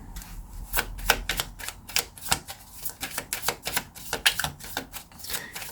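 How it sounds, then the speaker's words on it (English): A deck of tarot cards being shuffled and handled, giving a run of quick, crisp flicks and taps in uneven bursts, close and fairly quiet. "let's pull some cards. Grab my deck."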